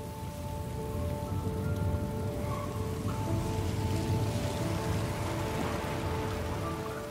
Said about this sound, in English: I'm feeling there's gonna be a lot of rain in this game